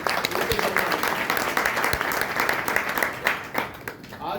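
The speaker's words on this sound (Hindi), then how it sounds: "एक बार तालियां चाहूंगा उनके लिए" Audience at an RCM business meeting in Baddi, Himachal gives a sustained round of applause, dense clapping from many hands throughout, with a voice briefly audible over it.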